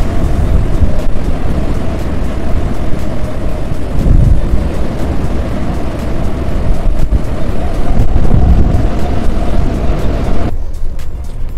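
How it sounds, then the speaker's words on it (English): Loud, steady wind and sea waves wash over a ship at sea in the Taiwan Strait during Typhoon Koinu, a continuous roar with gusty swells throughout that drops off abruptly near the end. "I show you the close view of the sea from here. You can see the movement of waves and swell."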